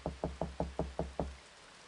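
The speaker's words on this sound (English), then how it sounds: "Then there was a knock at the door." Seven quick, sharp knocks land on a door in an even rhythm, close and distinct, then stop, leaving quiet room noise.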